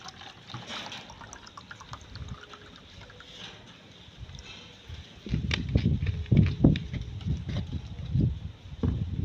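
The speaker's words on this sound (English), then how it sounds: "I'll add my water." Water pours and splashes in uneven bursts, starting softly and growing louder and busier partway through, close by with no voices.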